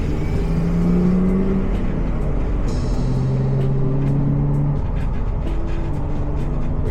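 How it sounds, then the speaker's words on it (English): A car driving along roads in Newport Richey and Port Richey, Florida. Steady engine hum and road rumble continue throughout, with the pitch rising and falling gently, and no voices. "We're driving now"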